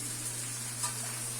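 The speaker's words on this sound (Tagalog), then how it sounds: "Nagigisa siya niyan" Shrimp sauté in a hot pan with a steady, even sizzle that holds at moderate loudness throughout, with no talk over it.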